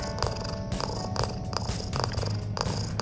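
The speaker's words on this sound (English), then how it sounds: "So I'm rubbing it now. You can hear it purring." Cat purring close to the mic while being rubbed, a loud rhythmic rumble with regular breath pulses repeating roughly every few tenths of a second, alone without talk.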